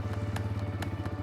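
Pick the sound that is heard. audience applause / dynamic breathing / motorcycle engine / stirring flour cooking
motorcycle engine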